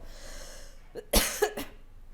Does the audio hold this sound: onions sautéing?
no